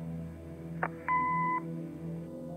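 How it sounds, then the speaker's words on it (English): An answering machine in the point-and-click game Kathy Rain gives a short click, then a single clear electronic beep lasting about half a second over a quiet low hum. "Leave a message after the beep."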